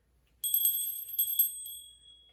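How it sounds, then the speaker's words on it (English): A small hand bell is rung once softly, a bright metallic ring with a quick jingling start that fades out cleanly over about two seconds, alone in a quiet room. "Okay, I rang the bell softly."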